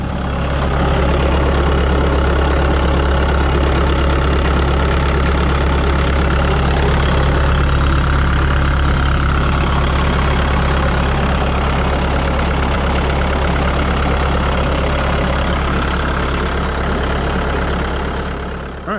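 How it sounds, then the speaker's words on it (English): A Bobcat S160 skid steer engine idling close by after a fluid change, a loud, steady low diesel rumble that holds constant throughout, with no voices. "Idle her down and check for leaks."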